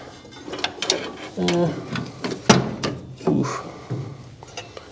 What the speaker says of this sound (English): Let's jam a bolt in there.